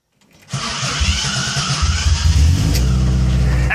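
A Subaru engine swapped into a VW bus cranks and catches, then settles into a loud, steady idle with a rough mechanical rumble, close by.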